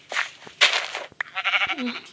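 Short, close sheep bleats in Minecraft, a couple of wavering baas in quick succession with soft game-like clicks between them.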